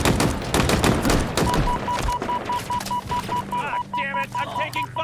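Rapid bursts of gunfire from a Halo Infinite firefight on Xbox Series X, dense and loud at first, then thinning into scattered shots beneath a steady electronic beeping tone and game sounds.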